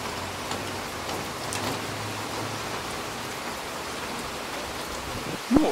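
Steady rain falls across Alexandrovskaya Square in Stavropol, a dense even hiss of drops on pavement with a faint low rumble, ending in a brief louder knock.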